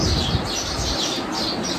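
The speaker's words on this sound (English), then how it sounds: "those are the sparrows." A group of sparrows chirps and squabbles nearby, high twittering calls running continuously with a few sharper squawks over a low background hum.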